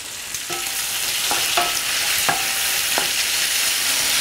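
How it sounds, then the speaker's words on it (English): Bacon sizzles steadily in a frying pan while a utensil scrapes and stirs it in a few short, distinct strokes; no voices. "We're going to give the bacon over here in the frying pan just a quick stir."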